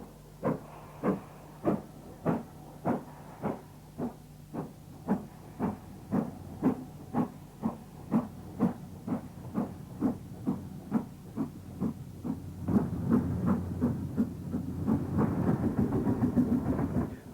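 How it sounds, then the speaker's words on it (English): A Princess Coronation class steam locomotive works at Stafford, its exhaust beating out about two dozen loud, evenly spaced chuffs that quicken slightly before merging into a sustained hissing roar near the end. "The only link with Scotland is the Scottish-based Princess Coronation class engine, number 46224, Princess Alexandra."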